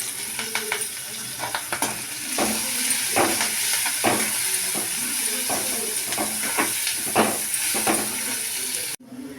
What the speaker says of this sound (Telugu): ఉల్లిపాయ బాగా బ్రౌన్ కలర్లో వచ్చేదాకా వేయించుకోవాలి.